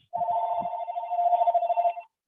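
A single telephone rings with a steady electronic bell tone lasting about two seconds, clear and fairly close in an otherwise quiet room.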